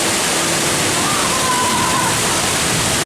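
Water rushes and splashes steadily on the Chiapas water ride at Phantasialand, a loud, continuous roaring wash that cuts off abruptly at the end.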